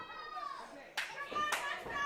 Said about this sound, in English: Why is the medic in there clapping his hands?